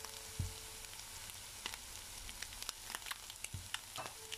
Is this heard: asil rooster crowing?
no